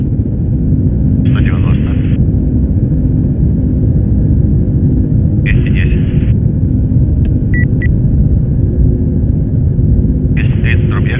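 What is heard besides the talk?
An-124 Ruslan aircraft engines during takeoff roll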